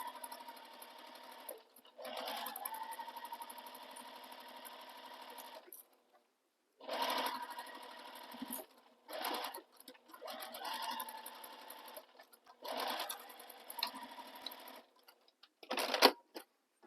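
Sewing machine stitching a Christmas stocking around its curves in several separate bursts of whirring separated by pauses, close and moderately loud, with slower stitch-by-stitch sections.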